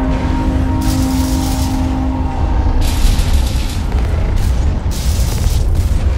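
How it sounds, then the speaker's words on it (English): Battleship turrets fire in the mech video game Hawken, giving deep, booming blasts that come in repeated bursts over a constant low rumble. "their battleship has a couple turrets that it's using to shoot at us"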